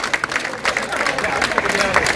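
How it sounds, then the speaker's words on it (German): Concert crowd applauding at a live folk music show in Gondelsheim, steady dense clapping with crowd noise and a voice talking over it. "dieser Applaus ist von mir"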